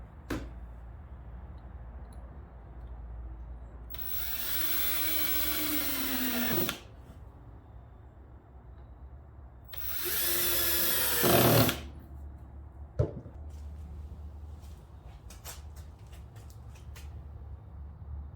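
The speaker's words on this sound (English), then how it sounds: "I went ahead and clamped these two boards down, and we'll put the screws in" Drill driving screws into two clamped wooden boards, two sustained whirring runs of a few seconds each, close and fairly loud over a low room hum, followed by a few faint clicks.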